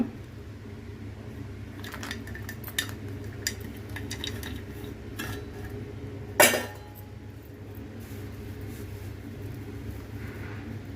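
Rava laddu mixture of semolina, sugar, cardamom powder and dry fruits being mixed in a bowl, with scattered soft clinks and scrapes and one louder, sharper clatter midway, over a steady low background hum.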